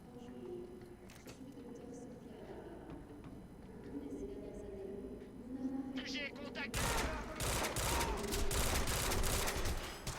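Pistol gunfire in the video game Quantum Break, heard as several loud shots and a burst of rapid fire in the second half over a steady background of game ambience and music.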